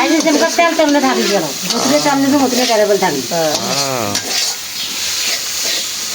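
Potatoes for aloo bhaji fry and get stirred in a village kitchen, giving a steady close sizzle with some stirring noise, while voices sound over it for much of the time.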